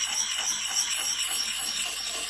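A hatchet blade being sharpened with a Lansky puck in quick circular strokes, giving a steady, close, continuous raspy rubbing of stone on steel with no talk.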